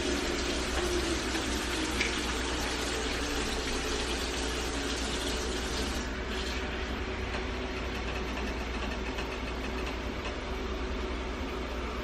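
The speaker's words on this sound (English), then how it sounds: "And we add hot water." Hot water pours steadily into a pot of oxtails for Jamaican curry oxtails, a constant loud rushing splash that holds for the whole stretch without pause.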